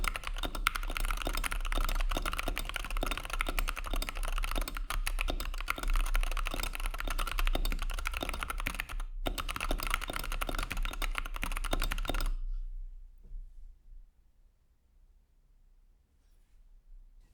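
Fast, dense typing on a Wooting 60HE gaming keyboard fitted with aftermarket keycaps and case: a rapid, continuous patter of close key clicks for about twelve seconds, then abrupt quiet.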